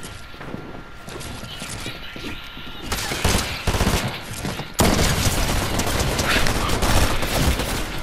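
Rapid automatic gunfire in the video game Fortnite, with bursts of shots that grow denser and louder, then settle into a sustained, loud barrage near the end.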